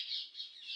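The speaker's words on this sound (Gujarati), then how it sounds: "પોપટ મસ્ત બોલે છે" A pet parrot in a home courtyard gives a harsh, sustained squawk lasting under a second, steady and fairly close, with no talking over it.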